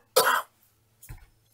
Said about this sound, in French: Oh, je ne coupe pas, même si je tousse